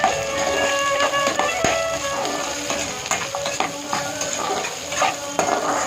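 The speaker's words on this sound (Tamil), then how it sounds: "அடுத்தது சின்ன வெங்காயத்தை நம்ம போட்டுடலாங்க. நல்ல ஒரு வணக்கிடுவாங்க." Small shallots sautéing in a pan for an ivy gourd stir-fry, a steady sizzle broken by frequent scrapes and taps of a spoon against the metal, close and moderately loud with no talking.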